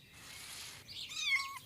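A domestic cat gives a short, clear meow with a rising then falling pitch, near and fairly loud, after a brief breathy sound.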